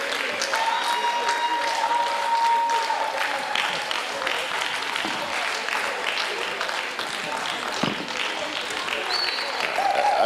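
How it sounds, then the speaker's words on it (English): An audience at the National Theatre of Ghana claps continuously for a performer walking off stage, a sustained crowded patter with brief tonal sounds and voices mixed in, holding at a steady level for about ten seconds. "I believe when he's walking off, we should be clapping until he sits down."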